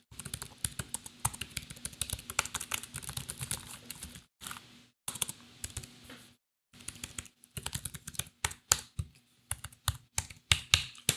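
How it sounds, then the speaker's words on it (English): Close-miked typing on a Slimbook PRO X Linux laptop keyboard, rapid bursts of crisp key clicks broken by short silent pauses, then sharper, louder individual taps near the end. "Great typing action on this."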